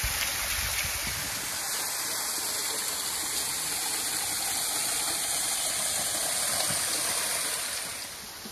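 Water from a low-flow waterfall near Chikmagalur rushes in a steady, broadband roar that holds constant, then eases slightly at the end, with no voices.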